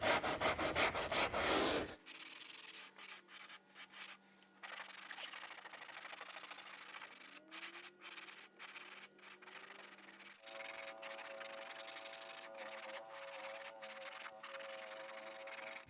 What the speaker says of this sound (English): I'm just going to hit it with a little bit of 80 grit to start with